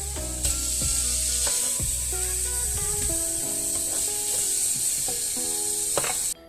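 Beef burger steaks frying in a pan, a steady close sizzle running throughout with occasional clinks and scrapes, no talk.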